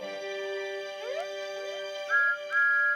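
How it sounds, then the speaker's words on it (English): A bright, tuneful steam locomotive whistle from a children's animated show, with sliding pitches over a musical backing, ending in two louder sustained whistle blasts. "Hooray!" whistled Thomas"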